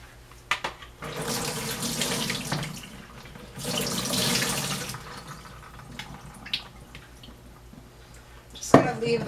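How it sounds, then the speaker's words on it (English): Tap water runs steadily while cut potatoes are rinsed in a bowl and tipped into a strainer, with surges of splashing, a few drips and a clatter near the end. "We're gonna do a quick wash of the whole bowl. We're gonna dump them in the strainer."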